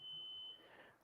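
A smoke alarm sounds a single thin, high, steady electronic tone for about half a second, faint and a little distant, then cuts off into quiet room noise.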